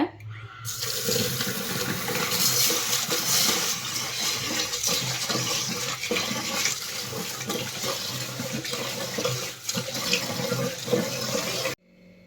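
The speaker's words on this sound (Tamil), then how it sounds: "அரிசியை ஒரு மூணுலேருந்து நாலு தடவை வந்து நல்லா வந்து வாஷ் பண்ணிட்டேன்" Ration rice being washed by hand in water for idli batter, with steady splashing, swishing and running water, close and continuous for about eleven seconds before stopping abruptly.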